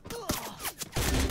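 Gunfire in a Free Fire match, a few sharp shots in quick succession mixed with game sounds, ending in a louder, denser burst of noise.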